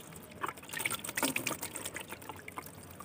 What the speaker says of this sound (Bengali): এটা খুলেই জল নিতে হয়।